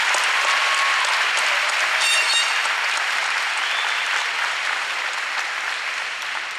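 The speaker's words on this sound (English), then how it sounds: "One more round of applause for Stephanie" A large crowd at a Rutgers School of Business Camden event applauds a student speaker, a dense, sustained wash of clapping that stays loud and even throughout, then eases slightly toward the end.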